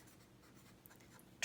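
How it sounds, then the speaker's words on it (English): Steady pen-on-paper writing scratches along through the whole stretch while working an algebra equation, ending in a sharp louder scrape. "Let me just write that down."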